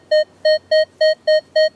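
Six sharp, evenly spaced electronic beeps from a Minelab X-Terra Elite metal detector passing over a hammered coin, loud and close in a quick regular rhythm, no voices present.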